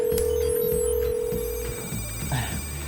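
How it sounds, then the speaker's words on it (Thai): A telephone rings with an incoming call, an electronic ring tone sounding briefly near the start and fading out, over a low hum and background sounds. "มีสายเรียกเข้าจากเสียโป้ให้รับเลยไหมคะ"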